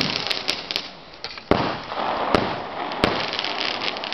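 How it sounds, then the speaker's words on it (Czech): Fireworks bursting outdoors in a big display, a dense, continuous crackling roar punctuated by sharp, loud bangs at irregular intervals, fairly close and filling the whole stretch without talk. "Hej, ale tak máme nejlepší ohňostroj široko daleko."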